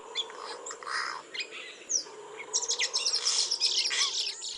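Busy, overlapping yellow-rumped cacique calls: bright chirps, whistles and squawky notes tumble over one another, growing denser and louder toward the end.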